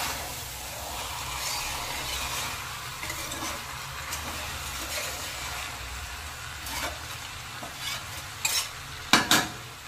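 Chicken and potato curry fries in a pan with a soft continuous sizzle, while a utensil stirs and scrapes against the metal, closer clanks growing louder toward the end, and no one speaks.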